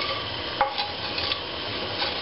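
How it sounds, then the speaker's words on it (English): Onion frying in vegetable oil over medium heat, a steady hissing sizzle with one soft clink of a utensil, no voices. "Heat the vegetable oil and cook the onion at medium heat"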